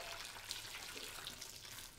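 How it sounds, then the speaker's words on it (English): Hot boiling water is poured over frozen edamame in a bowl, giving a faint, continuous watery rush that stays even for about two seconds. "and pour the hot boiling water."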